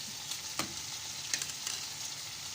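Small chicken pieces frying in hot oil, a steady broadband sizzle with a few sharper pops and crackles, close and fairly faint, no voices.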